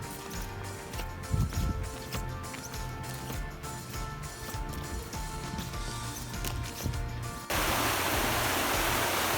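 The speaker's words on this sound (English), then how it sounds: "So here we are, down at the river." Rushing water of the Wild Horse River in the East Kootenays, a steady broadband roar close by with some knocking and shuffling at first, then a smoother, slightly louder flow in the final seconds.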